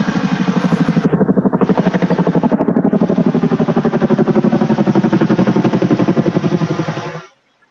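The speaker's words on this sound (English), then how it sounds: "we've got the planes, the helicopters" A helicopter passes close overhead, its rotor beating in a fast, steady chop that stays loud for about seven seconds before cutting off abruptly, heard alone at an outdoor fishing spot.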